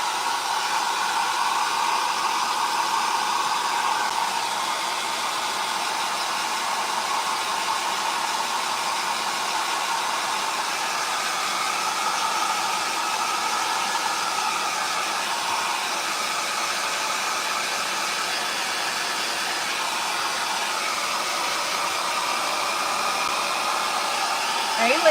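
A hair dryer blows steadily to dry a light coat of paint on the underside of a thrifted book holder. Its loud, even whoosh runs unbroken for the whole stretch.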